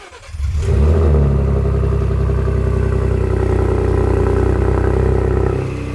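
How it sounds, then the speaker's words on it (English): A Ford Ranger Raptor pickup truck engine, remote started, cranks and catches, then settles into a loud, steady idle rumble that runs on unbroken. "Let's try remote start."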